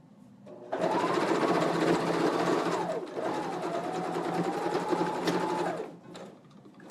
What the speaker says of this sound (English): Natalie, I'm just sewing on my regular machine because fleece doesn't fray or unravel, and my regular machine is a lot quieter